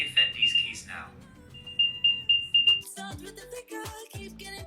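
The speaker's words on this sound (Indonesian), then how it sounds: "Nanti otomatis AirTag-nya bakal bunyi sendiri." An Apple AirTag plays a short high electronic beep pattern in bursts, faint under a voice talking, followed by clattering handling noise.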